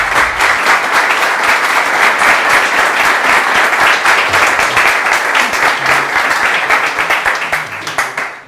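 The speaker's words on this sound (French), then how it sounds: "Et je vous demande de les applaudir." An audience applauds a data project presentation with loud, sustained, dense clapping that fades out at the end, with no talking over it.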